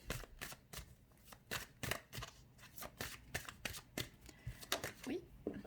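Oracle cards being reshuffled in a steady run of crisp riffling and slapping bursts, close and fairly loud, with soft speech in between.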